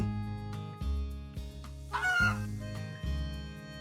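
A chicken in the farming game Story of Seasons: Grand Bazaar gives several loud, close clucks in a broken rhythm, with a longer squawk in the middle and no talk.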